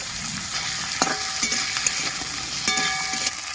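Potato strips, green chillies and onion fry in hot oil with a constant close sizzle, broken by several clinks of a spatula stirring the pan.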